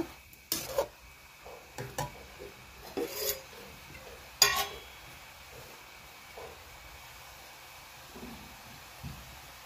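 Sautéed carrots for carrot halwa stirred in a pan: several distinct scraping strokes of a spoon against metal in the first half, then quieter occasional stirs over a soft sizzle, with no talking.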